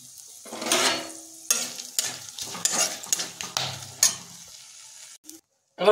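Bay leaves, dried chillies and whole garam masala crackle in hot oil in a wok, a close, steady sizzle marked by several sharp spatters and scraping stirs before it drops away near the end.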